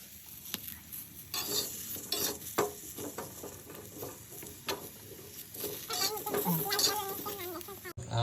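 Oiled sweet potato pieces fry on a griddle, making a faint crackling sizzle with irregular stirring and tapping sounds nearby and a few clucking fowl calls in the background.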